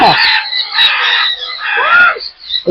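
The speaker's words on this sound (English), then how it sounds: "This warrior is all packed with cockatoos." Cockatoos in a packed aviary of breeding pairs give loud, harsh screeching calls close by, several overlapping shrieks that rise and fall in quick succession.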